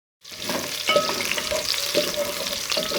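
Onions sizzle steadily as they brown in a hot pan for saag after a brief silence, with a few scraping stirs at regular intervals; close and moderately loud.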